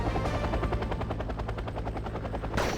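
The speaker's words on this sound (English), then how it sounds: "bringing over a reconnaissance helicopter" A reconnaissance helicopter in the war strategy game Red Dragon flies with loud, steady, rapid rotor chopping. The pulse runs evenly throughout, and a brief hiss of another sound comes in near the end.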